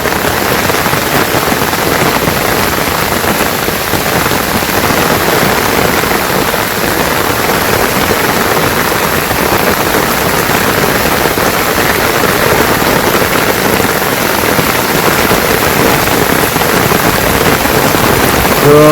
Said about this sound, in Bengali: তো বৃষ্টি মোটামুটি ভালোই অনুভব করলাম